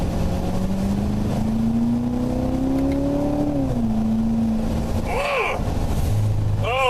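A 2015 Chevrolet Corvette engine pulls hard, its note rising steadily in pitch under acceleration, then drops at a gear change and settles, loud and close over constant road noise, with a couple of short higher chirps near the end.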